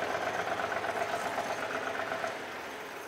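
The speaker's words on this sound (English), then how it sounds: "The tractor kept running, so obviously the charging system is feeding the tractor." A Ford 3-cylinder tractor engine from the 2000, 3000 or 4000 series runs at a steady idle, a close, even chugging rumble that holds without speech.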